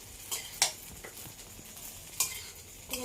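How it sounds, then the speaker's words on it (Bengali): Chow mein is stirred lightly in a pan, with soft scraping and a few sharp clinks of the utensil against the metal over a quiet steady hiss. "একটু হালকা করে নাড়াচাড়া করি।"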